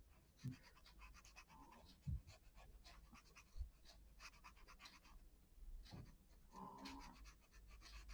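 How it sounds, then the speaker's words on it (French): A dog snores and snuffles quietly nearby, with a few raspy breaths and soft bumps in an otherwise hushed room, no talking. "Bambi, t'arrêtes de ronfler, tu me fais honte, là."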